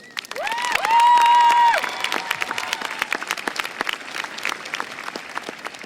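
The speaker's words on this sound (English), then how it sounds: "Please give a round of applause for Kaya Rose." Audience at a 2012 high school graduation breaks into applause with a burst of cheering and whistles early on, then the clapping continues steadily as the cheers fade.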